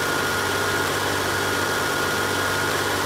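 A small tractor engine runs steadily in Farming Simulator 19, a continuous loud drone with a low hum and no pauses.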